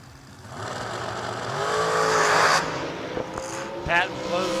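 Drag racing cars launching down the strip, one 421 and one 475, with an engine roar that swells and revs up as the tires spin loose, heard under an announcer's commentary.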